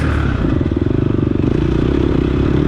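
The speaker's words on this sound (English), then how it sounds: "You can hear I have some really good braking" A dirt bike in an off-road race sounds loud and close, its engine chattering in a rapid, steady pulse as the rider brakes, with scraping and clatter mixed in.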